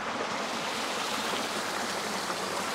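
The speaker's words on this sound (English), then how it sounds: "Here's the NRG waterfall." Water from a garden pond waterfall feature at a UK show garden pours and splashes in a steady, continuous broadband rush that fills the whole clip, close and even with no pauses.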